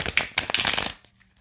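Tarot cards from a Starman Tarot deck shuffled briskly by hand, a quick riffle of crisp papery snaps for about a second that ends abruptly, followed by near silence.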